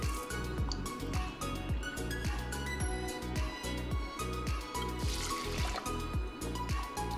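Water runs into a Nambu cast-iron rice pot, a steady close trickle and splash that continues throughout without a break.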